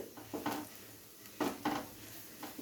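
Spices being stirred together with onions in a pan over low flame, giving a few soft, scraping strokes and light clinks with a faint sizzle underneath, spaced out across a quiet background.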